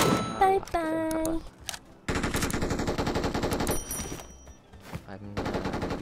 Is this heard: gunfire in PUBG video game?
yes